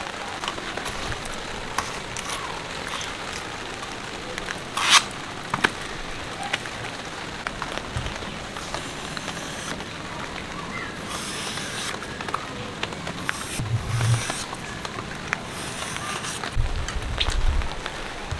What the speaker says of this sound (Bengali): বৃষ্টি হচ্ছে, সারাদিন পিস পিস করে